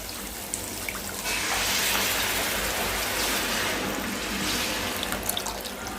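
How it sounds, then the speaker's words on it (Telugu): Tamarind water pours into a simmering fish curry, a steady close splashing trickle that starts after a short pause and runs continuously to the end. "ఇదిగోండి, ఇప్పుడు చింతపండు పులుపు పోసుకుంటున్నాం మనం."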